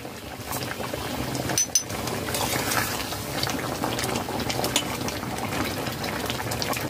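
Prawn malaikari curry boiling hard on a high flame in a covered pan, a dense, continuous bubbling and popping close by that stays steady throughout.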